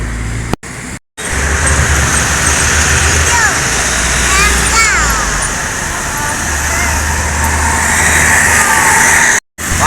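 Medium-size university bus driving past on a busy Sumatran highway, a loud close engine rumble and tire roar over steady traffic noise, with a horn-like tone sweeping by midway.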